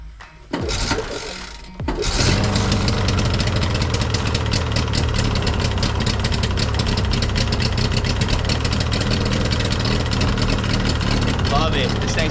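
An outboard motor on a Carolina Skiff boat cranks briefly, then catches and roars into a loud, steady revving run up close, a voice speaking over it.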